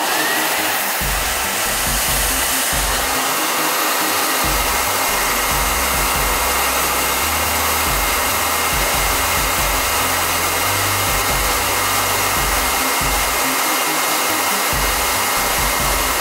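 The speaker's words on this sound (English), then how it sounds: "Let's see if we can melt it with a hairdryer." A hair dryer runs loudly and steadily up close, blowing hot air onto a gallium nail driven into wood to melt it, with a constant whooshing roar and low motor hum throughout.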